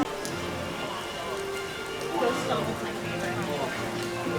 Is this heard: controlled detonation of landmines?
no